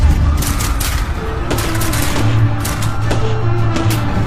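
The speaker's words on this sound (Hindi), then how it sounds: "अपनी बंदूक निकालते हैं और बिना किसी वार्निंग के गोलियां चलानी शुरू कर देते हैं" A volley of rifle fire from soldiers lined up and shooting without warning, a dense, loud, continuous barrage of overlapping gunshots and bursts that fills the whole stretch with no pauses.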